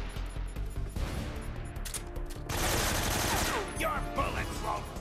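AK-47 fire crackles in bursts during a Metal Gear Solid 3 boss battle, fast rattling shots over in-game music and effects, with a louder burst near the middle.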